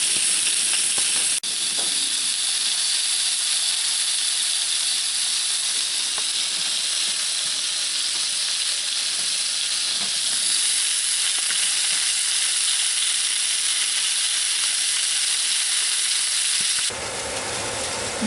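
Sausage sizzling loudly on a pre-seasoned cast iron grill pan, a dense continuous hiss and crackle that stays steady for many seconds up close, with no voices over it.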